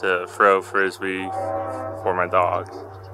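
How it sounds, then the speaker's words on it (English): A train horn sounds from a distance across a park, a steady low drawn-out tone running underneath someone talking close by. "That was the train noise"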